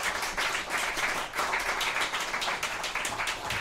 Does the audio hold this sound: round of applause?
yes